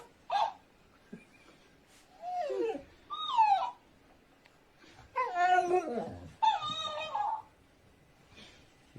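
A large, playful dog lets out a run of high whimpers, yips and whiny squeals, alone with quiet gaps between the bursts, close to the listener.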